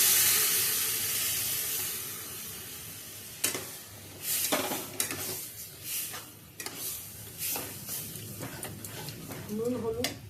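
Boiled ghugni peas tipped into a hot pan: a strong hiss and sizzle that tapers off, followed by scraping stirs and clatters of a spoon, with a voice speaking over the cooking.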